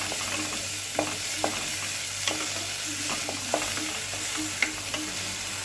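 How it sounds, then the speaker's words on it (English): Onion stirred in coconut oil in a pot, the base for a butternut soup, giving a steady soft sizzle with periodic scraping strokes of a spoon, close and alone without any talking. "then we'll add in my onion. Stir it a bit."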